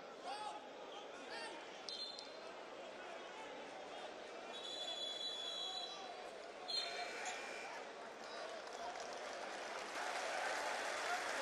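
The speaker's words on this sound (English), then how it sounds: "So applause being heard" A crowd at a FIBA Basketball World Cup game between Dominican Republic and Virgin Islands keeps up a steady, distant wash of applause and arena noise that swells slightly toward the end, under a commentator's voice.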